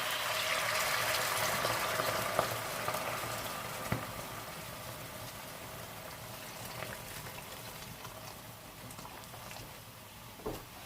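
Hot boiled water is poured into a hot pot of chicken soup, a soft continuous liquid splash and trickle with a few small clinks of the pot, fairly quiet and tapering off gradually.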